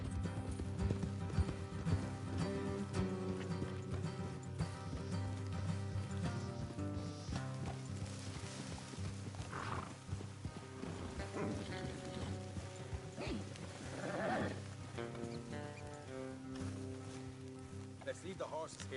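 Horse hooves clop rapidly through a dense mix of music and background sounds in the video game Red Dead Redemption 2, with a possible whinny breaking through.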